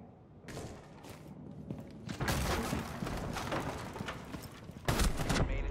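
Explosions in a Rainbow Six Siege match: a cluster of dense blasts and crackling impacts, rising sharply partway through and again near the end, loud and continuous with no talk.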